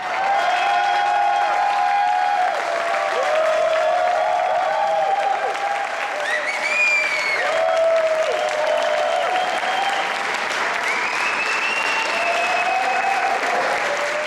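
A modest crowd of a few dozen people gathers outside the Apple Store Opéra in Paris at 9 a.m., giving a steady, lively murmur with bursts of clapping and cheering that stay at an even level throughout.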